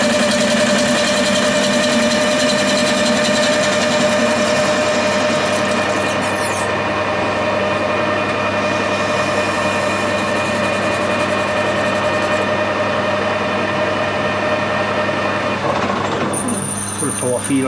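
A metalworking machine cutting an aluminium steam brake cylinder, a loud, steady whining drone with a strong harmonic tone that continues unbroken, its bright top shifting partway through and again near the end.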